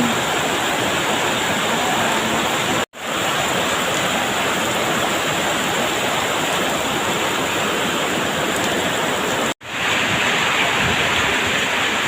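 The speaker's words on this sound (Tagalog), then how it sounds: "Ayan, biglang buhos ang ulan." A sudden heavy downpour of rain pours down outdoors, a dense, loud, continuous hiss of rainfall with two brief dropouts and no voices.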